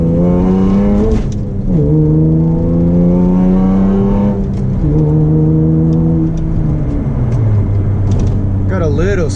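Catless 2008 Honda Accord V6 coupe accelerating hard, its loud, steady engine note climbing through the revs, dropping at each gear shift and climbing again in continuous pulls from start to end.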